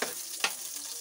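Onion and garlic sautéing in a pan for adobo, a brief sizzling hiss with a sharper burst of frying noise midway, steady and close with no voices.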